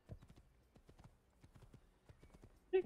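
Horse hooves clopping in the video game Assassin's Creed, a quick run of distinct hoofbeats at moderate loudness, closing with a short loud whinny.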